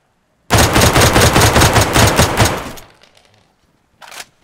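Gunfire in the game DayZ while shooting at a base junction during a raid: a loud sustained burst of rapid automatic shots, then a short second burst after a brief pause.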